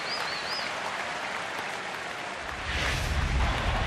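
Phillies fans applauding at a baseball stadium during a game against Oakland, a broad wash of crowd clapping with a few whistles early on, swelling louder near the end.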